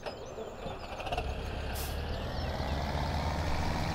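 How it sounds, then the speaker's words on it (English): Tractor engine in the video game Farming Simulator 17, a steady low rumbling drone that builds slightly and holds loud and close. "But that one time that I wanted to show you how that tractor rumbled"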